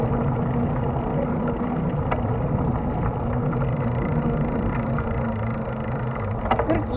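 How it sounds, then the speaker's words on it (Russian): A tractor engine running near a small forest bridge on a rainy day, a steady low idling rumble throughout, fairly close and constant, with no talk over it. "Смотри, там трактор стоит, что-то делает."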